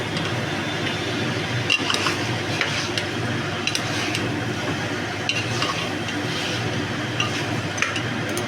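Mutton stirred in a pan with ginger, garlic and tomato, a steady close sizzle under scattered scraping and light clinks of a spoon against the pan, with no talking.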